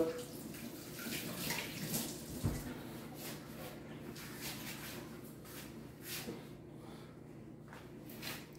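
Water runs at a kitchen sink while someone washes their hands, a steady close splashing with soft shuffles and brief louder moments. The sound is continuous and no one talks.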